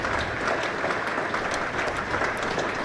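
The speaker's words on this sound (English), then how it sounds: "Gets the applause of the crowd" A cricket crowd at a Kent versus Derbyshire county match applauds a departing batsman, steady sustained clapping from many spectators filling the ground, continuous and moderately loud without any voices.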